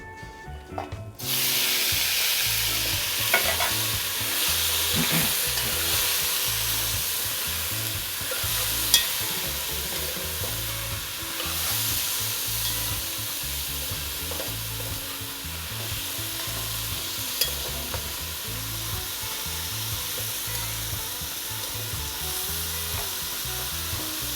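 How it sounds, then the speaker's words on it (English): Onion and tomato frying with browned seasoning in a pot in a home kitchen in Paramin, Trinidad, a loud continuous sizzle with repeated scraping stirs, close and steady with no talk. "So let it fry up there a little bit"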